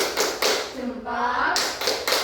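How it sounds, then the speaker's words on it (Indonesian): A class group in a classroom claps hands in short, quick bursts at the start and end, with children's voices talking between them. "beri tepuk tangan untuk kelompok 1"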